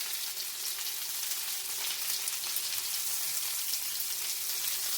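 Lamb chops sear in a hot pan on a stove, giving a steady, dense sizzle and crackle that runs unbroken throughout at close range, with no talking.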